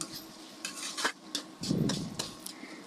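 Spoon scraping and tapping against a pan while pasta is stirred with tomato ketchup, a few quiet clinks and a soft sticky mixing sound, close and faint with no talking.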